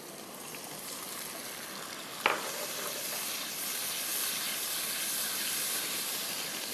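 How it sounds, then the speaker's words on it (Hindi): Tomato masala with roasted cumin fries and sizzles in a pan for anday cholay. A steady close hiss runs throughout, broken once by a single metallic clank. "अच्छी तरह भूनना है इसको कि टमाटर गल जाए"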